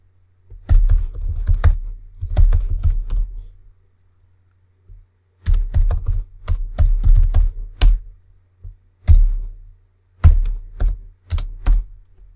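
Typing on a computer keyboard in clusters of quick key clicks with short pauses between bursts, close and clear with no talk.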